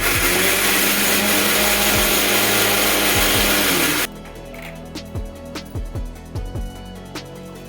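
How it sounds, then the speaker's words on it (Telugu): A mixer grinder grinding coconut with water whirs loudly and continuously for about four seconds, then stops, followed by a series of knocks and clatters of the jar. "వాటర్ వేసుకొని గ్రైండ్ చేసుకున్నామండి"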